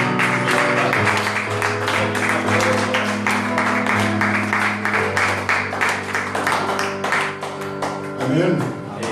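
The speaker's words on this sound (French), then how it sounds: "Sous nos acclamations, nous attendons ce moment." Congregation at a thanksgiving church service clapping and cheering over steady music with sustained keyboard tones, broad rhythmic claps filling the room while voices mingle throughout.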